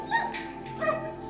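Dogs, a Siberian husky and an American pit bull, give a pair of short, faint, tonal yelps or whines close by, with no talking.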